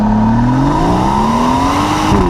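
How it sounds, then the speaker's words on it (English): A 2018 BMW M760i exhaust revs in manual mode, a loud, close engine note that climbs steadily in pitch before a quick shift near the end. "The exhaust is a lot louder."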